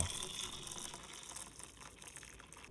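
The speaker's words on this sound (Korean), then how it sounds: "만들어둔 양념도 계란에 부어주세요." Homemade seasoning sauce poured over roasted eggs in a food container, a soft continuous splashing trickle of liquid, close and fairly quiet.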